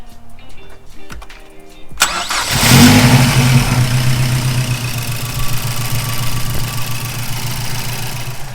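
A modified Mazdaspeed 3 engine cranks briefly, then catches and settles into a steady, loud idle with some mechanical clatter, after a quiet stretch of small workshop noises.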